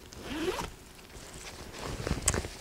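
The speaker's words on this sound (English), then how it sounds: "It's got a zipper pocket opening." A zipper on the pocket of a Skip Hop Studio diaper bag is pulled in a couple of short, close, ratcheting strokes, with no talk during them.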